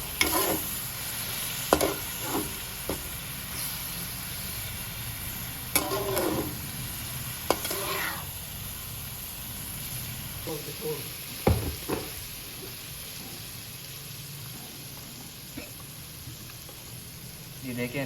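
Palak gosht, a dish of spinach and chicken, being stirred in a pan, with a low sizzle running throughout and several scraping strokes of the spoon at irregular intervals.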